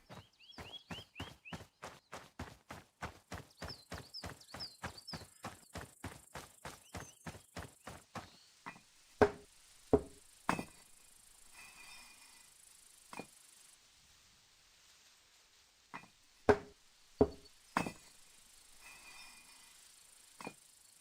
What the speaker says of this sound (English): Sounds like you're standing in cow poo.